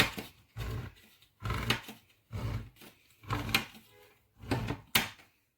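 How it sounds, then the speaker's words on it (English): A manual tin opener working around a tin of tuna: six repeated grinding, rasping turns in a steady rhythm, each about half a second long with short gaps, close and alone with no speech. "See if I can get the tin opener to work this time."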